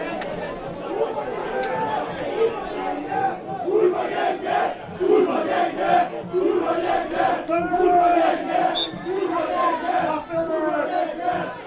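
At a football match between Budafoki MTE and Kisvárda, the stadium crowd chants loudly and rhythmically at the team, a dense continuous mass of voices, with a match commentator's voice heard over it.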